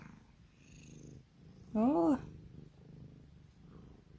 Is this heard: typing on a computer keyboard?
no